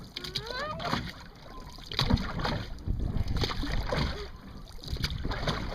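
A double kayak is paddled through water, with soft splashes and strokes under wind noise and people talking throughout.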